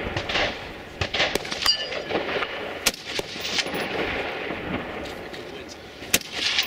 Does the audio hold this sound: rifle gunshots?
yes